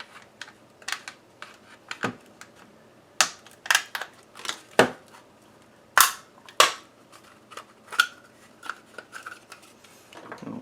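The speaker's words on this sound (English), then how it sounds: "you're just going to slide it to get this piece to pop off" Plastic clicks and snaps as a thin card slides around a Shark WandVac WV201 handheld vacuum casing to pop a piece off, a series of sharp close taps and cracks spread across the moment with quiet gaps between.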